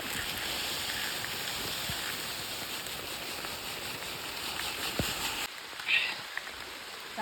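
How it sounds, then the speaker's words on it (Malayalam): Steady, dense hiss of rain falling in misty Idukki hills, even and continuous, then it drops off suddenly near the end as a brief voice comes through. "ഓഹോ മഴ മഴ മഴ മഴ"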